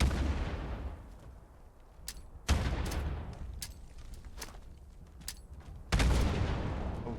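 Grenade blasts in the video game Borderlands: a few sharp explosive bursts at about two-second spacing, each a sudden broad boom that tails off into rumbling noise, with lighter crackling pops between them.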